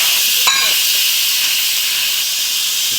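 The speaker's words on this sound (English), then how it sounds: "We're gonna hit the release button. It's gonna piping out of here all the steam, so be careful." An Instant Pot's pressure release valve venting steam while making oxtail Thai beef noodle soup, a loud, steady, close hiss after a brief click, with no talk.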